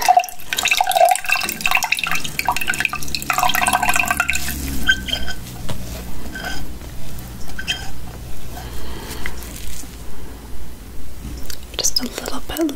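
Dirty water dripping and splashing close up as mud is washed off a face with a sponge and washcloths, soft rhythmic wet squeezes and drips under quiet whispered talk.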